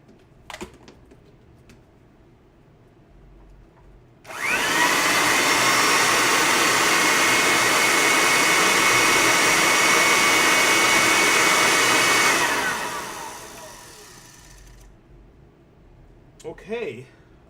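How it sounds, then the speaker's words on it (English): A freshly swapped motor is plugged in and whirs up abruptly to a loud, steady whine for about eight seconds, then winds down gradually, with a few handling clicks before and after. "We just swapped out a motor."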